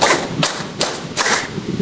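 Classroom clapping game with a short run of crisp, sharp hand claps, evenly spaced and close, over room noise.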